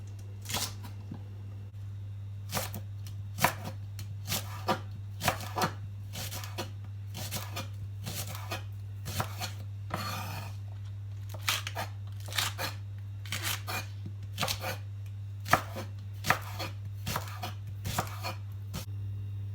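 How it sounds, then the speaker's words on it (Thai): A knife chops rapidly on a cutting board, sharp close taps repeating in quick uneven bursts over a steady low hum. "หั่นผักจ้ะ"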